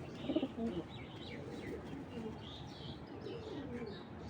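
A tagged 2021 racing pigeon coos softly among faint chirps, with a couple of clearer low coos early on and a steady quiet background hum, no talking.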